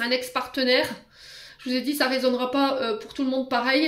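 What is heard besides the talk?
No everyday noise stands out behind the speech.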